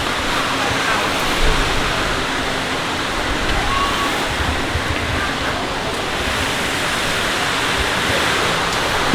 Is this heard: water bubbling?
yes